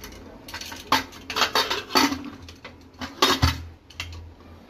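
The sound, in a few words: putting the lid on a pressure cooker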